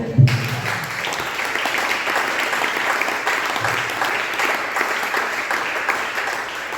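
A church congregation claps and cheers in praise, a dense, steady wash of applause from many hands filling the room throughout.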